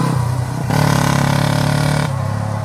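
A Warrior 350cc quad's engine idles close by with a rough, steady chugging hum, and its pitch lifts briefly in the middle and then settles again.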